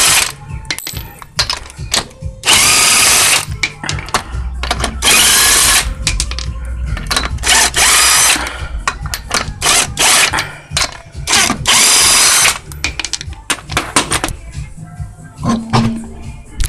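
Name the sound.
power tool removing wheel from 2002 Chrysler Sebring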